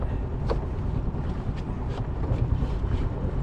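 Sailboat motor running on a cold, windy crossing, a steady low rumble blended with gusting wind noise, close and continuous for a few seconds.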